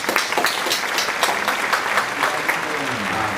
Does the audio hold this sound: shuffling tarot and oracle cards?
no